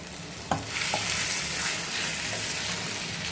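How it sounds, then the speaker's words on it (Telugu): Two spoons of freshly ground masala paste hit hot oil in a pan for an egg and potato kurma, setting off a loud, close sizzle with a sharp splash at the start, then a continuous crackling hiss as it is stirred. "మసాలా పేస్ట్ వేస్తున్నానండి"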